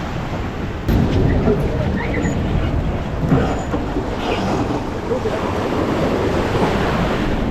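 Loud, continuous roar of ocean surf on a beach in the south of Western Australia, heavy wind buffeting the microphone, waves rumbling close by without a break.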